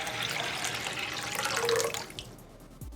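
Running water pours from a tap into a pot for anchovy broth, a steady close splash that cuts off near the end, followed by a brief clunk.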